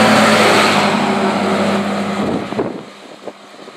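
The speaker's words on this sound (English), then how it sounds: "New Holland automatic bale wagons are always interesting to watch, and they make a unique sound running down the road." A New Holland automatic bale wagon drives down a road, its engine a loud, steady drone close by that fades and thins toward the end, with no voices.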